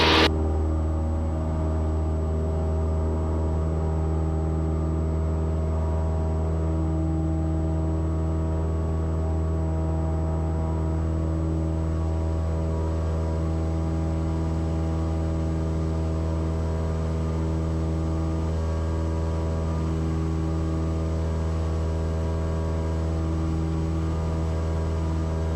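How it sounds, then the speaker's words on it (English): A small single-engine airplane runs at full power on its takeoff roll, a loud steady droning engine tone with a constant buzzing hum that stays even and close throughout. "heels to the floor, full power, here we go. Making full power, airspeed's alive,"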